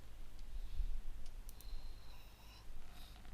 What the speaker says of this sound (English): Or you can just double click anywhere with this.